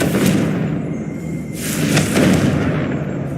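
Confringo fire spell exploding in the Hogwarts Legacy video game, a sustained booming rumble with two louder bursts, loud and close, with no talk over it.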